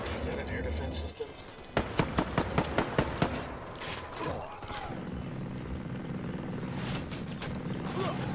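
Ghost Recon Wildlands gunfire: a quick burst of about eight sharp, evenly spaced shots rings out mid-clip, followed by looser scattered fire over a steady background hum and engine-like drone, with voices talking.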